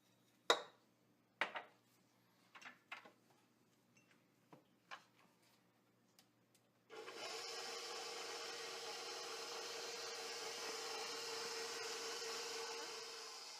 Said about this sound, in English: Slowly, with the paddle, mix on low until it smooths out.